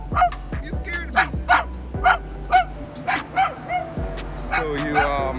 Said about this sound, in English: Little dog, you scared me.